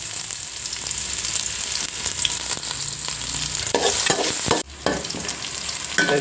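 Chopped garlic and onion frying in oil for a rui fish tomato curry, a continuous close sizzle broken by repeated scraping stir strokes and a brief dip midway.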